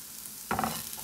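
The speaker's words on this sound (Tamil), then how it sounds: "இதை ரொம்ப ஃப்ரை பண்ண வேண்டாம், இந்த தேங்காயை கொஞ்சோண்டு ஃப்ரை பண்ணால் போதும்" Grated coconut fries in a pan with a quiet hiss, then a sudden stir halfway through brings a brief burst of scraping and crackling sizzle, close and fairly soft.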